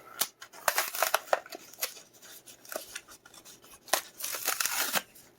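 A Hot Wheels Nissan R390 GT1 blister pack being ripped open, with irregular tearing, crackling plastic and cardboard rustling in bursts, close and moderately loud, with no talking.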